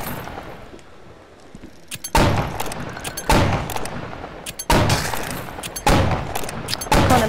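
Video game gunfire in Crescendo of the Blood Moon: four loud bursts of rapid shots, each a dense rattle that decays before the next, with a quieter stretch at the start.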